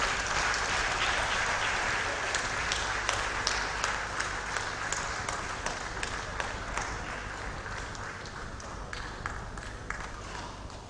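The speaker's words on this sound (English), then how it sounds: "A better round of applause" A university audience gives a lecturer a round of applause after his lecture, with sustained, fairly distant clapping marked by sharper individual claps, steady for about eleven seconds.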